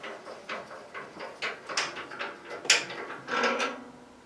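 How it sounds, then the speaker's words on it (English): A bandsaw table is being removed, giving a run of quiet, close mechanical clicks, scrapes and knocks in an irregular rhythm, with no talking. "the first thing I like to do before installing any blade is to remove the table"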